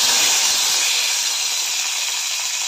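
Onion, green chilli and curry leaves dropped into hot oil with cumin for a tempering, giving a loud, steady hissing sizzle close up that holds throughout without talk.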